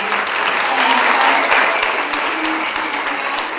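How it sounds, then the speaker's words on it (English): Full audience applause at the Haigh Select Choir's May 2013 school concert, a loud, sustained roar of many hands clapping together in the hall, steady throughout with faint voices beneath. "So let's give her a big round of applause."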